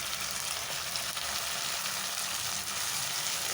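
Minced mutton keema sizzles steadily in a hot pan, giving a continuous close crackle with occasional stirring and no talking.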